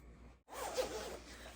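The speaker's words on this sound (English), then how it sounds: "So this jacket right here is all smooth leather when I go ahead and zip it up." A zipper pulls up a smooth leather jacket in one close, quiet, rasping stroke lasting about a second, after a brief silence.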